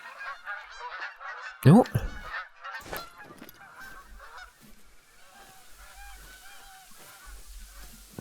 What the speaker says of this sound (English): we had a lot of geese flying. Well, they were making a lot of noise.